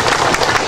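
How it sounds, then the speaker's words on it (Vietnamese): Applause from the congregation at a parish Christmas Eve music festival in 2010, a dense steady wash of many hands clapping at once, loud and close throughout the short burst. "bà con cô bác chúng ta vỗ tay cảm ơn tất cả mọi người ngày hôm nay"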